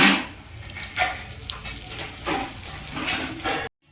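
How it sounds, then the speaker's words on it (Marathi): Fish fries in a pan in a home kitchen, giving a steady low sizzle with a few brief clinks and stirring sounds before it cuts off abruptly. "चिटकतही नाही खाली मस्त फ्राय होती"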